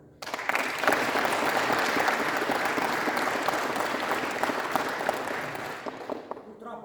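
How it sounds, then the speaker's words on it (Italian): Audience at an aikido seminar in Vittorio Veneto applauding steadily, dense sustained clapping from a sizeable room that holds nearly seven seconds before tapering slightly at the end. "fatevi un applauso"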